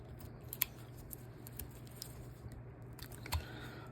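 A carving knife makes a stop cut into wood, giving short crisp cutting clicks and scrapes spaced through the clip over a low steady hum, close and fairly quiet.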